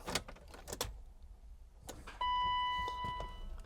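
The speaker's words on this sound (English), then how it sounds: "Let's see what happens when I turn on the ignition." Ignition being switched on in a BMW E32 750iL V12, a few soft clicks and handling noises followed by a steady electronic chime tone that holds for about a second, quiet and close.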